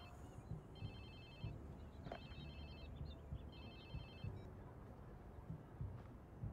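A phone rings in the video game Watch Dogs 2 with a repeated electronic trill, sounding in three bursts over a steady low rumble of game ambience.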